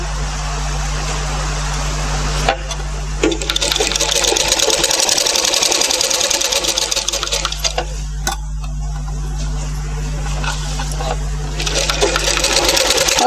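Sewing machine stitching piping onto a blouse neckline, a steady loud mechanical whirr running in long bursts with brief pauses between runs.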